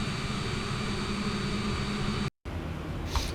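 Steady jet engine hum from a Boeing 787 taxiing in Microsoft Flight Simulator 2020, a continuous mid-level drone with a broad whine, cut by a short dropout near the end.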